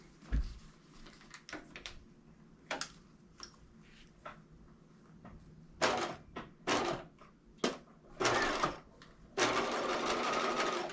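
Sewing machine stitching a quarter-inch channel in a lace face mask for a nose wire, short close bursts of rapid mechanical whirring between quiet pauses and small handling noises, ending in a longer run.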